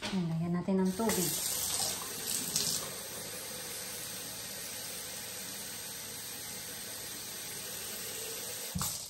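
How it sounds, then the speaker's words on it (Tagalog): Water running from a tap into a container for watering a young lemon plant in a garden, a steady broadband rush that continues throughout after a brief voice at the start, ending with a small knock. "lagyan natin ng tubig"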